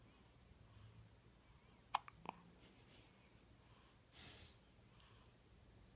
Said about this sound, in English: Hiccups into sneeze.